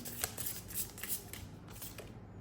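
Tarot cards are handled and drawn, with quick papery flicks and rustles coming in uneven bursts close to the listener, then trailing off, with no speech.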